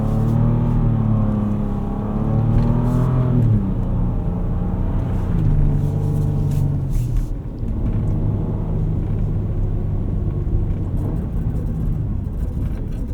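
A Ford Ranger Raptor fitted with BFG KO3 tires pulls away from a standstill in two-wheel drive on winter roads, its engine droning and rising in pitch through the gears, heard from inside as a steady, loud rumble.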